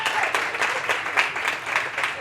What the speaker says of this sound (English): Give Joe Riga a round of applause for being here.